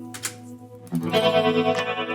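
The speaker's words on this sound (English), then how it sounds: "Also we have a tremolo here" Electric guitar through the tremolo effect of a Fractal Audio FM9 modeler, a sustained strummed chord pulsing in volume after a brief scratchy pick noise, loud and close.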